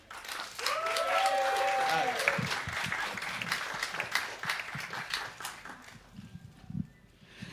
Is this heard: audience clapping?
yes